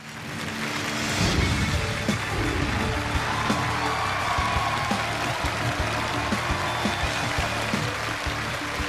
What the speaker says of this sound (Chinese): 掌声有请挑战者出场。